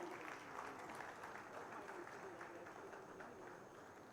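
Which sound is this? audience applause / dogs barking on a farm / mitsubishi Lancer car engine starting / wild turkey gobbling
audience applause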